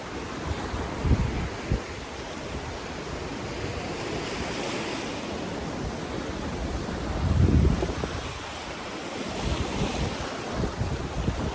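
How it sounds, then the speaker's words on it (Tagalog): Calm ocean waves at a Northern Samar beach wash steadily under heavy wind buffeting the microphone, with a gentle surge swelling midway. There is no talking. "Medyo kalmado lang yung alon."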